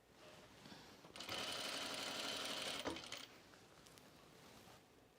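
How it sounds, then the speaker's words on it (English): A sewing machine stitches a dress in one steady run of about two seconds, a fairly close whirring hum that stops sharply and leaves quiet room sound. "I'm sort of sewing the dress backwards, Amy."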